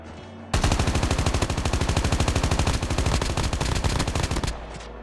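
Rapid automatic weapon fire in a Call of Duty Mobile match, a loud, sustained burst of evenly spaced shots running for several seconds and then cutting off abruptly.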